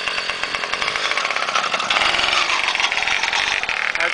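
A small engine on a cold ride-on unit runs rough, with a buzzy, uneven drone broken by irregular misfire stutters, close and fairly loud throughout.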